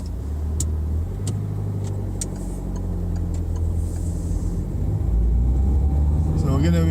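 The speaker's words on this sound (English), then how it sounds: "we're going to start the engine up now and just set off" Car engine running steadily inside the cabin while the vehicle pulls away, a continuous low hum with light mechanical ticking, heard from the driver's seat.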